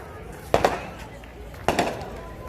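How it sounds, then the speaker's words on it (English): Two sharp fireworks bursts by the beach in Ocean City, Maryland, each a broad crack with a short crackling tail, spaced about a second apart at moderate distance over faint background noise. "Fireworks by the beach."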